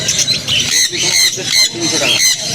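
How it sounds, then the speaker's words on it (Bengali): Budgerigars at a pet bird market chattering and squawking in quick, overlapping bursts, close and busy, filling the whole stretch without pause. "এখানে দেখতে পাচ্ছেন বদ্রি পাখি রয়েছে অ্যাডাল্ট ফিমেল মিলিয়ে রয়েছে"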